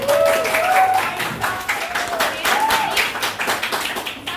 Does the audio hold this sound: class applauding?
yes